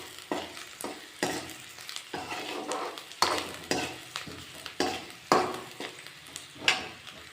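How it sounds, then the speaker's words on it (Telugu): Thinly sliced onions, green chillies and dried red chillies fry in a pan. A soft, steady sizzle runs beneath repeated scraping strokes of a stirring spatula, heard close and alone. "సన్నగా తరిగిన ఉల్లిపాయలు, పచ్చిమిర్చి, ఎండుమిర్చి వేయించుకోవాలి."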